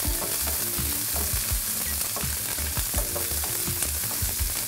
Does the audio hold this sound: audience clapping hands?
no